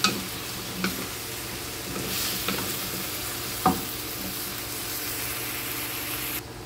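Squash pieces dropped into a pan of pinakbet vegetables, sizzling and frying steadily while a utensil stirs with a few soft scraping knocks, moderately close and without talk.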